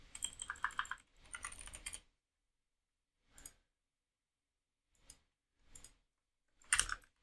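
Bursts of computer keyboard typing, two busy runs of rapid keystrokes followed by a few isolated single key presses, close and fairly quiet with no talk.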